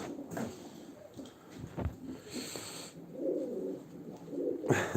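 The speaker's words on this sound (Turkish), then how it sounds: "Çok kalabalık kuşlar var ya." Pigeons crowd a loft, cooing in soft, throaty bursts that overlap near and far, with rustling and a few sharper chirps among them and no talk.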